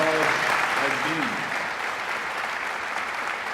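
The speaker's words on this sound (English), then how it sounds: "we should give at a minimum a round of applause" Audience applause at a College of Architecture graduation ceremony, a dense sustained clatter of clapping hands filling the hall, with a brief voice at the start before the applause carries on alone.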